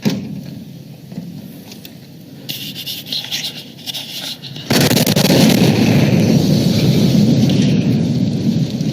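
An RV bomb detonating in downtown Nashville, heard from a police officer's body camera: a roaring, rumbling blast hits suddenly and its heavy wash sustains loudly over outdoor ambience, without speech.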